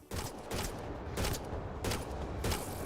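Pistol fire in the sci-fi video game Mass Effect: Andromeda, five punchy, evenly spaced shots roughly every 0.6 seconds, loud and close, each decaying into a brief echo.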